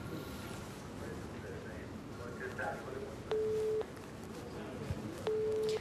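Telephone ringback tone heard while placing a call, two steady half-second tones about two seconds apart, sitting over a constant background hum with no talking.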